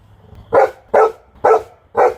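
Four evenly spaced dog barks ring out close and loud, each a short sharp woof with brief silence between.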